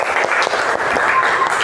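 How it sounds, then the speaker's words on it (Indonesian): Classroom audience of vocational high school students clapping together during a teacher's practicum lesson, a short, steady burst of dense applause heard alone. "tepuk tangan untuk semuanya"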